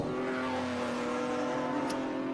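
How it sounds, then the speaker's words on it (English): A Nissan GTR race car at a historic racing festival accelerates past a BMW, a loud sustained engine roar holding strong throughout the pass. "Puts his foot down. Just walks past the BMW."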